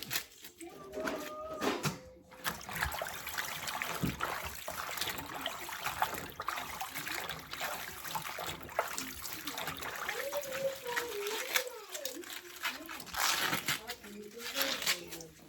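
Tap water runs and trickles steadily while collard greens are washed and torn by hand in a kitchen, with crinkling leaf sounds mixed in and a voice talking at times.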